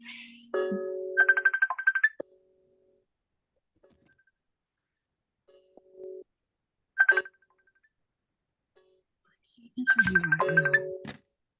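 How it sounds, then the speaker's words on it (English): A mobile phone ringtone plays in short melodic bursts separated by long silences, near and clear, with faint voices between rings. "Yes, my phone ringing."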